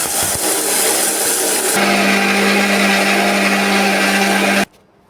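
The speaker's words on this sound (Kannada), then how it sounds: "ನಾ ಇದನ್ನು ಗ್ರ್ಯಾಂಡ್ ಮಾಡ್ಕೊಂಡು ಬರಕತ್ತೀನಿ ರೀ" A mixer grinder grinds a milk-free energy mix powder, a loud steady whirring roar that runs continuously for several seconds and then cuts off abruptly into near silence.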